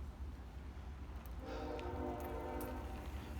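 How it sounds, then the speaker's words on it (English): A train passes at a distance, a low rumble that swells into a steady mechanical drone with faint metallic squeals, fairly quiet and heard without talk. "Oh, the train."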